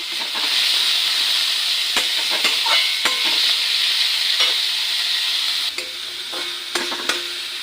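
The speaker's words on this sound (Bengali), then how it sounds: "এরপর এগুলো সব দিয়ে এবার এগুলো একটু ভাজা ভাজা করে নেব।" Chopped onion, tomato and chili frying in oil with cumin, a loud, steady close-up sizzle with hissing steam and several sharp spatula scrapes and taps against the pan, no talking.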